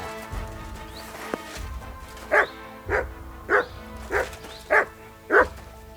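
A dog in the video game Kingdom Come: Deliverance II barks six times in a steady, evenly spaced series, fairly close and clear over a low background rumble.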